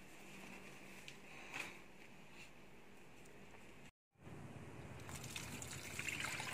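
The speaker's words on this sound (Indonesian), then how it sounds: "Dan airnya kita buang." Soaking water is poured off chili seeds, a faint, close trickle and dribble of liquid that stops briefly and then resumes slightly louder.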